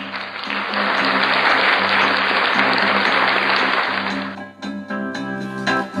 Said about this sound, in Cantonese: 掌聲鼓勵